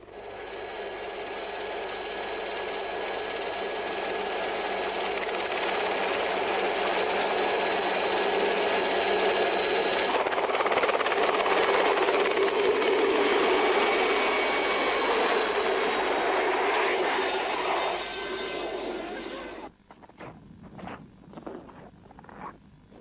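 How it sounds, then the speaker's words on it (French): Helicopter landing on a mountain summit, a loud steady whine and rotor roar building and holding for about twenty seconds, then cutting out to quieter scattered sounds. "Et cette fois, c'est en hélicoptère que nous nous posons au sommet."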